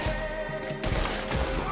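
Rapid bursts of gunfire from a Red Dead Redemption 2 shootout at Braithwaite Manor, loud and close, with dense overlapping shots and no talk.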